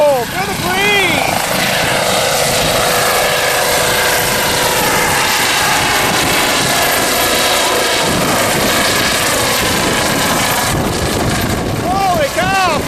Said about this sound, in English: This is now now watching Medford's helicopter taking off.